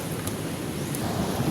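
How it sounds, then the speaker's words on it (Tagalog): Strong ocean waves surge and roar close by in a continuous wash of noise, with wind buffeting the microphone and no voices. "So rinig na rinig mo talaga yung galit ng alon"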